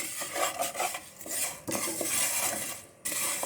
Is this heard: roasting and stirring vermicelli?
yes